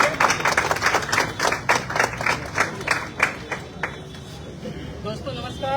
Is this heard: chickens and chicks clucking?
no